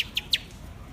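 A pet budgie gives three quick, high, bright chirps in close succession, fairly faint against a quiet background.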